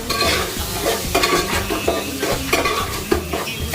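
Fish curry ingredients frying in a pan in a Nellore-style home kitchen, a steady broadband sizzle with repeated scraping stirs and light clinks of a utensil against the pan, close and fairly loud, no talking.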